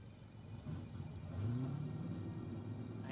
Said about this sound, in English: I hear a car starting.